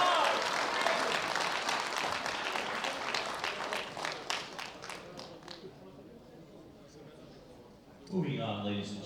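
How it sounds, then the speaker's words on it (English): Applause rings through the hall for the winners at the 2016 World Bench Press Championships, a dense clatter of clapping that thins into scattered claps before an announcer's voice returns. "Round of applause for our winners."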